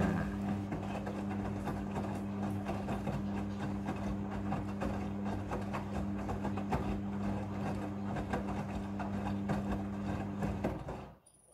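Steady mechanical hum with a low drone and a rushing wash of water running continuously as a Midea front-loading washing machine fills for rinsing, fairly close, then cutting off abruptly at the end.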